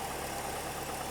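A Rover P6 engine idles steadily after sitting thirty years, a continuous close mid-range engine hum with no speech over it.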